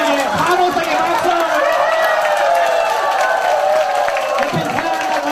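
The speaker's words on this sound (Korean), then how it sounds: "옆에 있는 분에게 환호성의 박수!" An audience at a cancer seminar cheers and claps for the people beside them. Loud, rising cheering voices blend with dense applause and stay full and continuous throughout.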